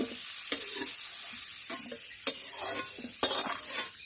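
Steamed cauliflower pieces go into hot oil with salt and turmeric in a kadai, giving a low, steady sizzle with several sharp scraping stirs of a spatula and clinks of utensils, close and without talk.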